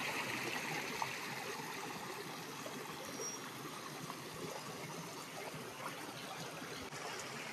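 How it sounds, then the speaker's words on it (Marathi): A small stream trickles along a forest trail on the Dhakoba fort trek, giving a faint, steady, continuous wash of running water with no voices. "पाण्याचा झरा असं आपल्याला लागलाय"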